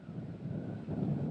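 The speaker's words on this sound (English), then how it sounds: "Although the sun was shining, it was a windy day out on the lake." Wind blows on a sunny day out on Lake Superior with choppy water, a low rumbling gusty roar buffeting the microphone and swelling toward the end, with no voices.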